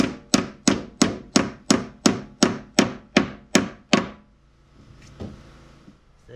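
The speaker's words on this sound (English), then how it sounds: "Get that nailed on." Nails hammered into wood while sealing windows on an off-grid roundhouse build: about eleven sharp, loud, evenly spaced blows in quick succession, then quiet with a few faint handling sounds.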